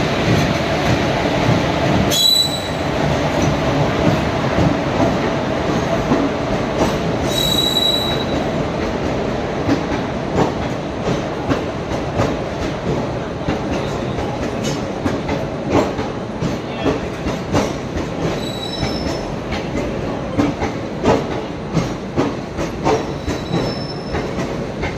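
Tamil Nadu Sampark Kranti Express (12651, Madurai to Nizamuddin) on the move, a loud, steady rumble with rhythmic wheel clatter on the rails and occasional squeals, heard from onboard and continuous throughout.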